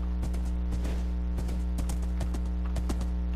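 Horse hooves clip-clop in the Minecraft video game, a quick regular run of crisp hollow hoofbeats over a steady droning background.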